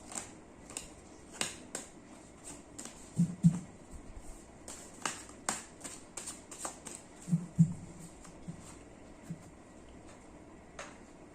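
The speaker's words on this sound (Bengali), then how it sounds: "তো নিয়ে নিচ্ছি 10টি কার্ড।" Tarot cards being drawn and handled: quiet, irregular crisp snaps and flicks of card stock with brief soft shuffling rustles, close up and otherwise near silent.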